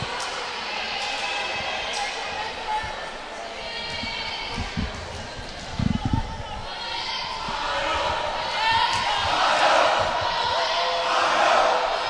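A volleyball crowd in a college gym at a Carson-Newman versus Lincoln Memorial match chants rhythmically in Ohio cheers, swelling louder toward the end, with a few ball bounces in between and an announcer speaking over it.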